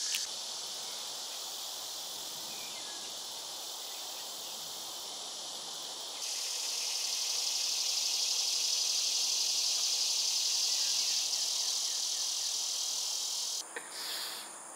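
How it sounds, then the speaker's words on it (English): Cicadas in Georgia drone loudly and continuously, a dense high-pitched buzzing chorus that swells louder partway through and cuts off briefly near the end. "the cicadas are screaming"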